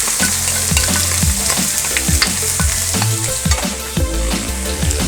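Two large sliced onions fry and sizzle steadily in hot oil in a pan for egg drop curry, with a constant loud crackle and rhythmic scraping of a spoon stirring, no talking.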